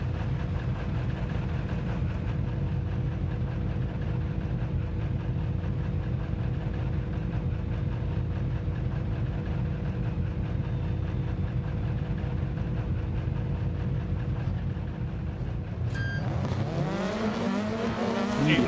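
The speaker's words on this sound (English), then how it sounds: "they are getting ready to go green, and they're launching off the line" Rallycross cars in Dirt 2.0 on a race grid roar steadily at high revs for a long stretch, then launch off the line with a burst of rising engine notes and tire noise near the end.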